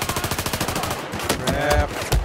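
Automatic gunfire in the Battlefield 4 video game comes as a rapid, loud burst of evenly spaced shots, followed by scattered heavier blasts and impacts close by.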